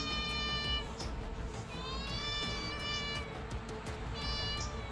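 A cat meows repeatedly with long, harmonic, drawn-out calls that rise and fall, close and loud over a steady low background rumble.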